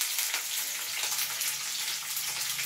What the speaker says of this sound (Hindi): इस तरीके से मिर्ची कौन कौन फ्राई करता है